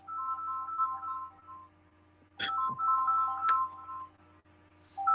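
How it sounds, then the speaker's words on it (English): A phone ringtone plays a short, repeating electronic melody in bursts, close and fairly loud, with a brief pause partway through before the tune resumes. "I gotta answer the phone."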